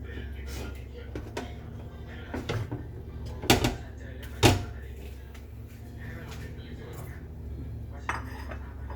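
Dishes and cutlery clink as cooked mashed fish with blanched neem is scooped onto a plate in a rural kitchen, a few sharp clattering hits among softer scrapes, under a woman's chatter.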